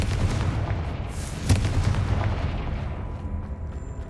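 A Confringo blasting spell in Hogwarts Legacy goes off as a dense, booming blast with continuous rumbling impacts that stay loud for several seconds, with no voices over it.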